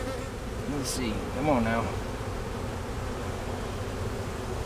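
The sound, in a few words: honey bee swarm buzzing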